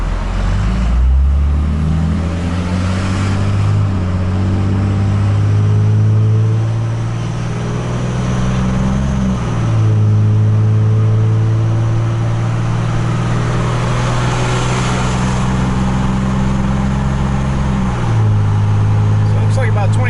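A Cummins 12-valve diesel swapped into a Ford F250 pickup, towing in tow haul mode: a loud, continuous engine drone that rises in pitch, then drops sharply at two upshifts and climbs again.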